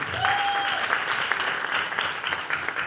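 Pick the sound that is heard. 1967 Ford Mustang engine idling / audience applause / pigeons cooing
audience applause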